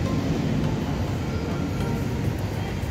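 An LRT light-rail train rumbles steadily at a station. The low, continuous mechanical roar fills the whole stretch at a loud, even level, with no talk heard.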